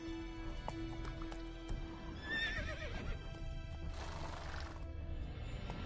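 Roach, a horse in The Witcher 3, gives a clear whinny amid clip-clopping hooves, with other in-game sounds around it and no talking.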